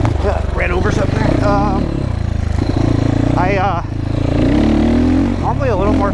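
GPX FSE300R motorcycle ridden on a track, its engine droning loud and steady throughout with rising and falling revs, while a voice talks over it.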